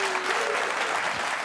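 Studio audience applause from a late-night comedy news show, a brief, dense burst of many hands clapping at even strength.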